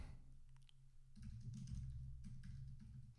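Steady, close clatter of rapid typing on a computer keyboard, keys struck in quick succession over a low background hum, with no talking.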